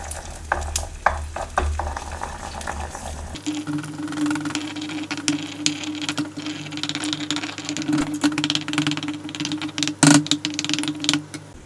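Eggs are broken up and stirred in a hot pan for egg fried rice: a steady sizzle and crackle with scraping utensil strokes, close and continuous. Louder clacks sound at the start, then a sharp knock near the end.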